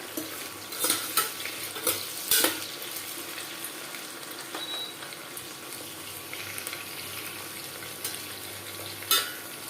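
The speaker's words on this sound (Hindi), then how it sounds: "तो अब हम इसमें कटहल को डाल देते हैं। दो बार करके फ्राई करेंगे इसे।" Jackfruit pieces fry in hot oil in a pan, giving a steady background sizzle while a utensil scrapes and clatters through them in irregular close bursts, a few louder knocks standing out.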